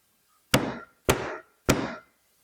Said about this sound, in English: Never pounded a bronze nail.